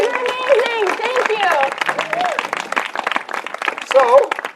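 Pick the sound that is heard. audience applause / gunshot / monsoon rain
audience applause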